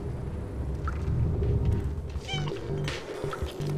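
A cat in the video game Stray gives a few short, high meows over a dense, rumbling game soundscape, fairly faint against the background.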